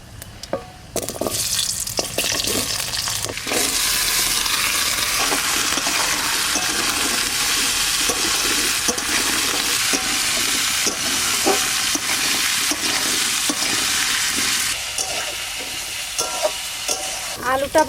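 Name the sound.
potatoes frying and being stirred in a pan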